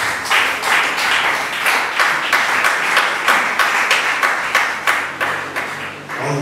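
A church congregation bursts into steady, loud applause and rhythmic clapping that fills the room for several seconds and then begins to taper off, with no voices over it.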